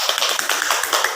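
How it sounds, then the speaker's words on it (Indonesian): Classroom applause for a student group, a brief burst of many hands clapping in quick, uneven rhythm, fairly loud and close. "Kasih aplaus untuk kelompok 2."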